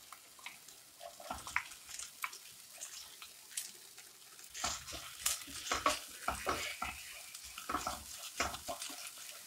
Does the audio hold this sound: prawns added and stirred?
yes